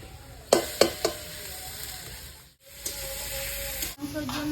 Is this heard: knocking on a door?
no